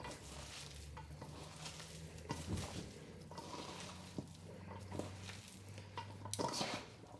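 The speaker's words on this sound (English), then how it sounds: "Just get it really mixed up." Hands or utensils toss and mix a chicken and cabbage salad with olive oil and cilantro in a bowl, making a continuous close, soft, wet rustling and squishing with occasional clinks against the bowl.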